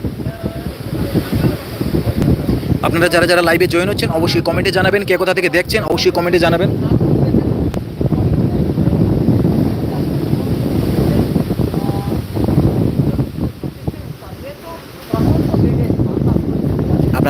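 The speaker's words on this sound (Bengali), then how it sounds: "বাতাসও ব্যাপক পরিমাণে চলছে দফায় দফায় চলছে বৃষ্টি দীঘার সৈকতে" Strong wind buffeting the microphone at Digha sea beach during rain, with a roaring, rushing rumble and surf behind it, loud and continuous while someone talks over much of it.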